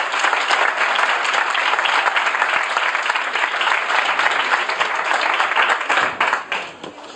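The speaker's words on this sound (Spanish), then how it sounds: "por favor un aplauso muy fuerte para Bruno Cardeñosa." An audience gives a speaker sustained, strong applause at the start of a talk, thick uninterrupted clapping that fades slightly at the very end.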